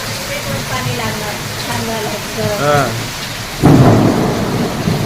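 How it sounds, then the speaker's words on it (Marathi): Rain falls steadily while someone talks nearby, then a deep, heavy rumble of thunder rolls in and swells toward the end. "ढगांचा गडगडाट सुद्धा ऐकू शकता मित्रांनो"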